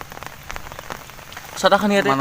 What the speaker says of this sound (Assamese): পানী পৰি আছে